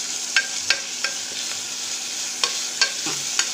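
Chopped tomato sautés with ginger and garlic in a pan for a cowpea tamarind curry, a constant sizzle broken by regular spatula scrapes and taps a few times each second.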